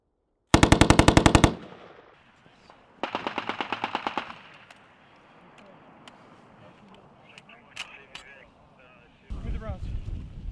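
US Marines fire M2 Browning and M240 machine guns in two sharp, loud rapid bursts, then sporadic single shots and a final burst, with wind noise and voices shouting between.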